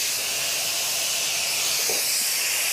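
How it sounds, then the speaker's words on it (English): Pears dusted with icing sugar sizzle on a hot char grill pan, giving a steady, loud, close hiss that continues without a break and has no talk over it. "Dust them liberally with icing sugar, yes, icing sugar, and then pop them on the char grill pan"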